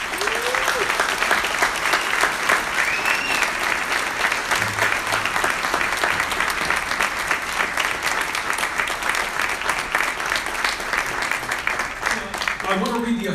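A long, loud round of applause at an awards ceremony, many hands clapping in a dense, continuous roar with cheers and voices mixed in throughout, tapering slightly near the end.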